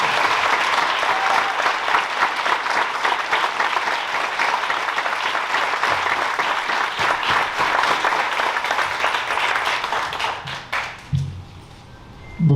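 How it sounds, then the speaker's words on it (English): An audience at an honor graduate night applauds its honor graduates and scholarship winners with loud, dense clapping that holds steady for about ten seconds and then fades into a quiet room. "Please join me in giving our honor graduates and scholarship winners a round of applause."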